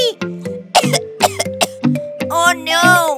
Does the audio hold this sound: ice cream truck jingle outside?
no